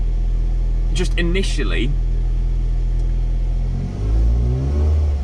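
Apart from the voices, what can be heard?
car engine revving with aftermarket Milltek exhaust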